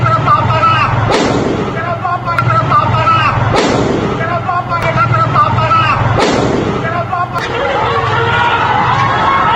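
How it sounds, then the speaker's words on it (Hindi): Gunfire during a student protest in Siwan, Bihar, with several sharp, loud reports cracking out at irregular intervals over a dense, continuous crowd din of chatter and shouting. "सिवान में फायरिंग भी हुई, जिसकी गूंज सुनाई दी"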